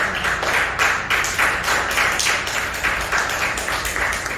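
A church congregation claps together in a steady, rhythmic patter of many hands, dense and close, with no break in the applause.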